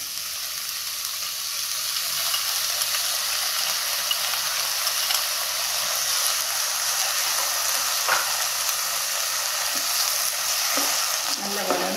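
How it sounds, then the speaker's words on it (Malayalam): Egg manchurian with tomato sauce and soy sauce sizzling and frying in a pan while being stirred, a steady loud hiss with occasional scraping clicks throughout, no voices. "ഇളക്കി കൊടുക്കാം."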